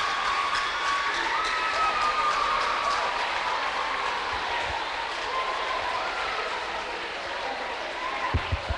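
A school debate crowd gives the champions a standing ovation, dense, sustained clapping with cheers and children's shouts that slowly thins, a few last loud claps and thumps at the end.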